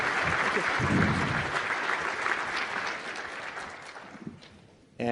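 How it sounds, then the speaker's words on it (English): An audience applauds at a big data conference keynote, a loud, dense burst of clapping that gradually tapers off over a few seconds before a sudden noise at the end. "Can we give a round of applause for Chris and Shilpa?"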